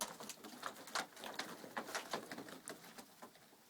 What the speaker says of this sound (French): je vous présente donc mon élevage de pigeons texans.